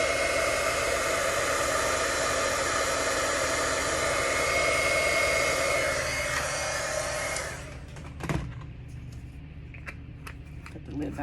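A heat gun blowing steadily for heat embossing on cardstock, a loud close whooshing hiss that cuts off after about seven seconds, followed by faint handling clicks and taps.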